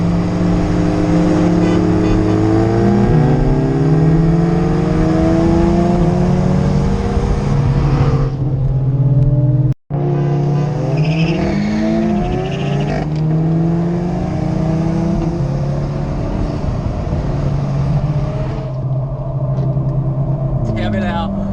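Volkswagen GTI with a tuned engine revving hard during a street race, loud continuous engine drone climbing through the gears, with a brief cut midway and voices talking over it.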